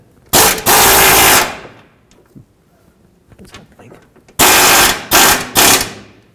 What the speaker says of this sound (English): Now let's tighten these front ones, 15mm socket.